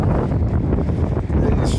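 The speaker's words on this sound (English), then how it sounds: "It's flipping horrendous wind at the moment." Strong storm wind gusts over a river at an open-water swimming spot, buffeting the microphone with a loud, continuous roar throughout.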